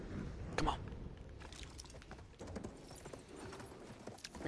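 A horse's hooves clip-clop steadily at close range, with a sharper thud near the start, over a rough, noisy background.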